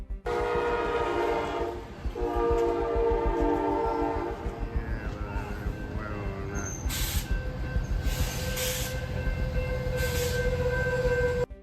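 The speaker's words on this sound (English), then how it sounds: "The train barrels into the semi with brutal force" A train rumbles steadily with a loud horn blaring over a heavy, continuous roar of wheels and engine as it crashes into a semi truck, with bursts of hissing noise later on.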